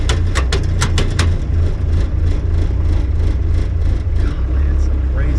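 A diesel right-hand-drive Jeep TJ Wrangler engine runs with a steady low rumble, with a few sharp clatters early on and small throttle blips that lift and smooth the idle, close and loud.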